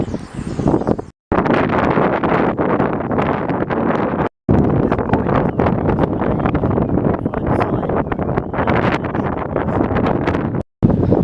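Steady, loud wind buffeting the microphone on the England Coast Path between Redcar and Middlesbrough, roaring almost continuously with a few brief drops to silence.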